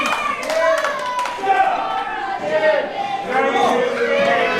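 A wrestling crowd in Kings Mountain reacts loudly to Shane Austin, with a continuous wash of shouting and jeering voices and scattered claps filling the whole stretch.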